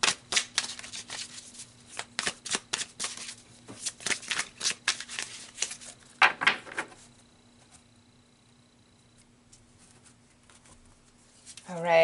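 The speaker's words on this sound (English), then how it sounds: "let's pull some cards to see the other side" Tarot cards being shuffled by hand: rapid riffling bursts repeat for several seconds, then fade to near silence before a short, louder burst at the very end.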